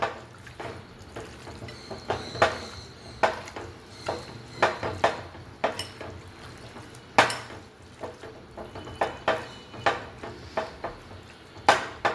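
Chicken pieces being rubbed and mixed with spices by hand in a bowl for a potato chicken curry, with soft squelching and repeated clinks and knocks against the vessel, close and fairly quiet, no talking.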